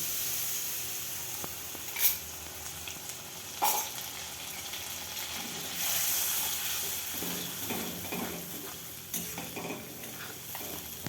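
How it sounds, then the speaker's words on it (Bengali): Spice paste, freshly ground in a mixer, sizzles in hot oil in a pan while making potol maharaja, a steady frying hiss with a few louder bursts and stirring scrapes, close and alone. "সেই পেস্টটা তেলের উপরে দিয়ে দিচ্ছি।"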